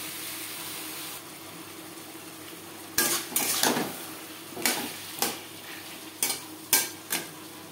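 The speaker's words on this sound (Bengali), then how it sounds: "1 চামচ আদা বাটা, কাঁচা লঙ্কা বাটা। কাঁচা গন্ধ যাওয়া পর্যন্ত নাড়াচাড়া করে নেব।" Ginger and green chili paste fry in a pan beside tomato paste, a quiet sizzle punctuated by a series of sharp, irregular spatula scrapes and clacks against the pan.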